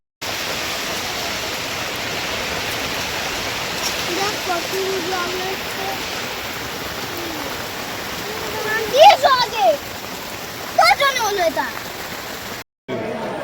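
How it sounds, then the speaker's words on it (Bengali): Heavy rain pours steadily as a dense, loud hiss, with a few bird-like chirps briefly near the end. "বৃষ্টিও শুরু হয়ে গেছে প্রচুর পরিমাণে"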